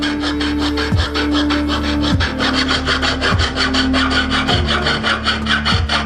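A fine-bladed jeweller's saw cuts a piece of metal in half with close, loud, rasping back-and-forth strokes, a steady rhythm of about one stroke per second and a faint squeal on each pass.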